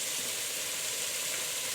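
Meat sizzling as it cooks, a steady broadband frying hiss that runs evenly and fairly quietly throughout, with no voices over it.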